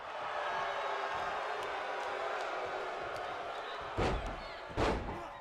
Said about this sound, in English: Abdullah the Butcher just slamming the back of the head of Brody into the mat